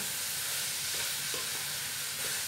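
Chicken adobo sizzling and frying in a pan as it is stirred, a continuous hissing crackle with a few soft scraping strokes, close and steady with no talking.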